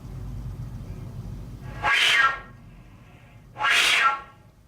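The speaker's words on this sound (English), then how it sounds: "Here's what's this thing called? A jet whistle." Two breathy, rushing jet whistles on a flute, each a short airy burst rising and falling, separated by a quiet pause.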